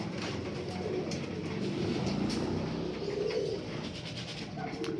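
Racing pigeons in a Pampanga loft coo steadily at close range, a soft continuous murmur of overlapping birds with occasional wing flutters and faint background noise.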